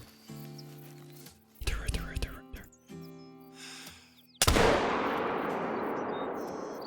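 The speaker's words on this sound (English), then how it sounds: "That was such a risky shot" A single loud rifle shot in the hunting video game Call of the Wild, a sharp blast followed by a long rolling echo, after quiet game tones and whispered talk.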